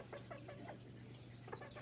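A chicken inside a house gives a run of short, soft clucks in quick succession, then a brief pause and a few more, faint against a low steady hum.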